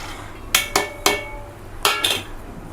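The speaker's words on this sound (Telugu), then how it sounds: "ఈ దొండకాయలు కూడా వేసేసి ఒకసారి కచ్చాబెచ్చా దంచేసుకుందామండి" Ivy gourd and green chilies pounded in a stone mortar, a series of sharp, close thuds in uneven pairs and clusters, loud and without talk.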